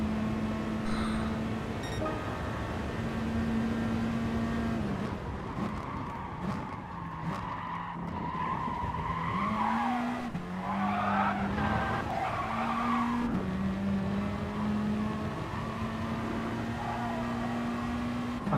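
Peugeot RCZ race car in the video game GT Sport, a droning engine shifting pitch through gear changes while tires squeal and skid through corners at Le Mans, loud and continuous throughout.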